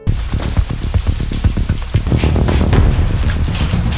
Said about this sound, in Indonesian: Tiba-tiba hujan turun.